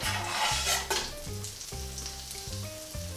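Morel mushrooms fry in a tablespoon of butter in a pan, a steady close sizzle with repeated low scraping strokes of stirring at a regular rhythm, no voices.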